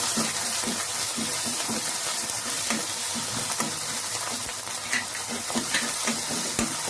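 Mustard seeds, grated ginger and green chili frying in oil for kadhi, a continuous close sizzle broken by frequent sharp crackles and pops, with faint stirring movement.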